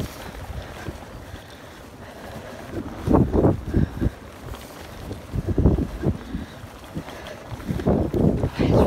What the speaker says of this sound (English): It's really windy as well.